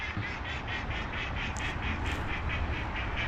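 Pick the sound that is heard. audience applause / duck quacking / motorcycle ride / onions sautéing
duck quacking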